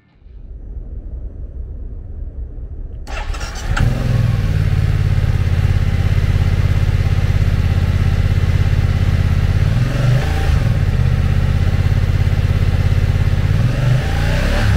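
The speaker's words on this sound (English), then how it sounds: "Powered by an 895cc two-cylinder engine, the F900R puts 99 horsepower and 67 foot-pounds of torque through a 6-speed transmission." A 2021 BMW F900R with an 895cc two-cylinder engine turns over and fires up after a brief quiet start, then settles into a steady, loud, close idle with a faint clattery edge; no one speaks.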